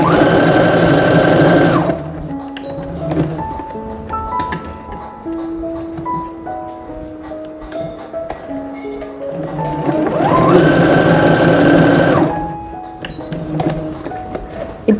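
An electric sewing machine runs in loud steady bursts, stitching hooks onto fabric, first a run of rapid stitching, then quieter pauses, then another fast burst.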